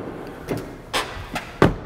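A Nissan car door, freshly treated with lubricating spray, swings shut in a few separate thuds and clunks, the last one the loudest and sharpest, heard up close with no talking.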